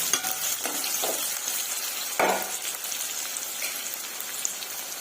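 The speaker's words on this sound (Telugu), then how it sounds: "ఇవి గోల్డెన్ బ్రౌన్ కలర్ వచ్చేంత వరకు మనం ఫ్రై చేసుకుందామండి" Thin onion slices fry toward golden brown, giving a continuous near sizzle with light stirring taps and one louder burst of crackling partway through.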